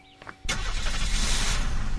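A car engine in the video game Unturned cranks and catches after a short pause, then settles into a steady idling roar.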